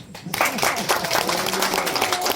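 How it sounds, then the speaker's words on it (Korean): Applause from an audience at a Korean community event in Seosan breaks out after a brief pause, a dense, steady wash of clapping that continues to the end. "박수 한번"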